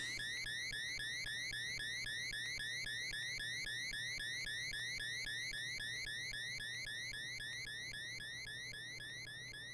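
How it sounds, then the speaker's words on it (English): Loud electronic beeping from a Mega Man 2 game, a fast, steady run of high, rising chirps that repeat without pause over a faint hum. "sorry for the very loud beeping."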